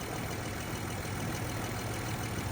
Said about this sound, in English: That's definitely a blown engine.